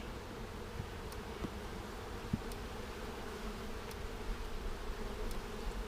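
A dense, steady drone of many honey bees buzzing close by around a hive, continuous and low, with faint clicks now and then.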